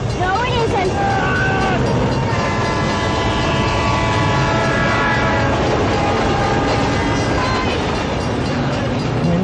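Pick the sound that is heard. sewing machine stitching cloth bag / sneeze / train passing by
train passing by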